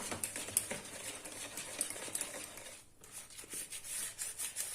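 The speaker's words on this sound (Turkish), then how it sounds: "Güzelce karıştıralım, karıştıralım." A spoon stirs green spinach cake batter in a bowl, giving soft, continuous wet scraping and rubbing strokes, quiet and close, with a brief pause partway through and no talking.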